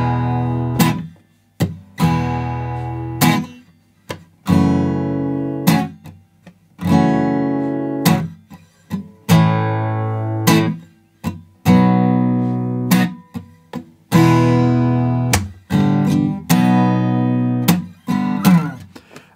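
An acoustic guitar strums the chords of a song in a steady repeating rhythm, each strum bright and ringing, played alone and close.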